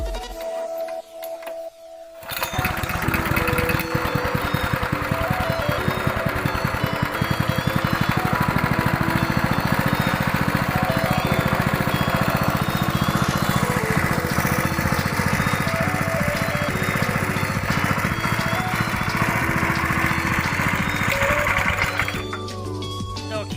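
A hard-starting small gasoline engine fires after a brief quiet pause, then runs loud and steady with a fast, buzzing rattle for about twenty seconds before cutting back near the end.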